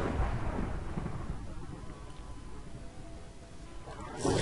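Thunder rumbles through a thunderstorm in Minecraft, a low, rolling roar over steady rain hiss, swelling again at the end.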